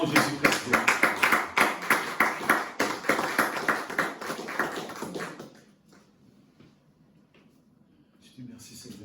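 A church congregation claps in a fast, regular rhythm for about five seconds, loud and close with voices mixed in. The clapping then stops abruptly and only a quiet room remains.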